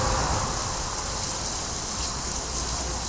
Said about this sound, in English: This is the third time I've come out this morning and it's still raining.